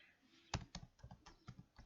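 Someone types on a computer keyboard: a quiet, irregular run of about seven sharp keystroke clicks with brief gaps between them and no other sound.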